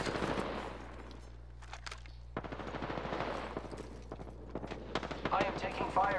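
Gunfire in the video game Apex Legends, with bursts of rapid automatic shots and scattered single reports at moderate distance, mixed under speech and game sounds.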